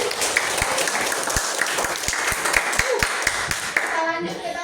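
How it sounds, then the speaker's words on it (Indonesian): A school or contest audience breaks into steady group applause, many hands clapping close and loud for several seconds before tapering off at the end, with a voice faintly mixed in. "Tepuk tangan."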